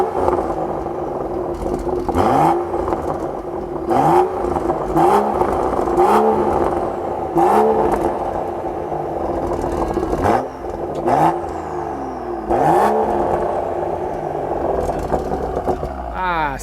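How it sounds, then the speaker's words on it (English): BMW M235i fitted with M Performance exhaust parts blips its engine repeatedly, sharp revs rising and falling in quick bursts with crackles between, close and loud, over a steady idle, with someone talking in places. "such a beautiful sound coming from this gorgeous M235 with the M Performance parts"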